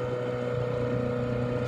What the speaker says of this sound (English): Hopefully we can be heard okay over the motor, but we've been motoring since,